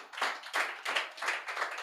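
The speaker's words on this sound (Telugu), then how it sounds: "చప్పట్లు కొడదాం యేసయ్యకు." A church congregation at a fasting prayer meeting claps in unison, about five or six even, moderately paced claps at a modest distance with no talking.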